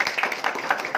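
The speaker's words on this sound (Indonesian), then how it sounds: "Silakan Pak Gino, tepuk tangan." An audience claps in a community gathering, a brief burst of several quick, fairly close hand claps in an uneven rhythm.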